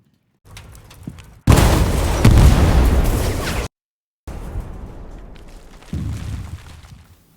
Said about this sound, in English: the vehicle will continue to take damage until it finally explodes